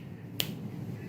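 A single sharp finger snap cracks close to the microphone against a quiet indoor room, brief and crisp with nothing following it.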